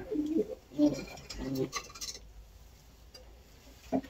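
A pigeon coos close by in a few soft, low bursts, with a brief rustle and quiet background noise between calls.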